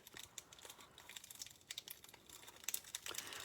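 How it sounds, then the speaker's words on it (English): Cellophane wrapper being peeled and opened, close and quiet, with bursts of crisp crinkling and crackling that grow busier toward the end. "I don't know how they get this cellophane on here so good"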